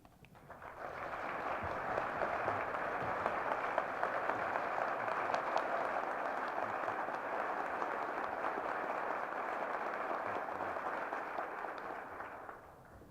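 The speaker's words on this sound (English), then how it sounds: "in response to applause like this" Sustained applause from a large audience for a university president at a 1964 State of the University address, swelling in and holding steady for about twelve seconds before fading, heard at a distance with no talk.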